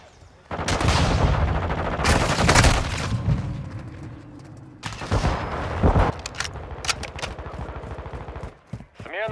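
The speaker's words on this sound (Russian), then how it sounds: "Развернули турель часовой!" Sentry turret machine-gun fire in Call of Duty MW2, loud close bursts of rapid gunfire in several long volleys, with brief shouted callouts in between.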